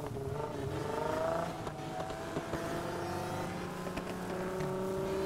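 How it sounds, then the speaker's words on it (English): Supercharged Ford Mustang engine in the racing game NFS Heat, a steady droning hum with a rising whine that swells and holds, loud and continuous throughout with no talking. "Damn, that supercharger."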